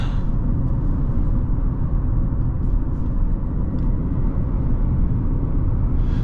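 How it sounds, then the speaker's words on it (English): A 2025 Chevrolet Equinox engine, heard from inside the cabin while driving, blends with road noise into a steady, loud low rumble that holds level throughout, with no talking. "The engine is just kind of there. It's not super refined, but it's not obtrusive by any stretch of the imagination."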